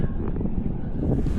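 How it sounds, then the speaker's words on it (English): Breeze blowing over a sailboat on the bay, heading north toward the Bay Bridge, a brief steady rush of wind against the microphone with faint water noise beneath. "I think the breeze kind of picked up a little bit."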